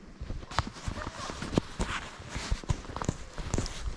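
Horses walking at a morning horseback camp, their hooves clip-clopping in an uneven series of sharp knocks under a steady outdoor background, with some movement noise around them.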